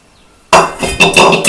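Homemade herbal hair dye mixture is moved onto another plate. Half a second of near silence gives way to a sudden close clatter of dishes, followed by a few lighter clinks and scrapes.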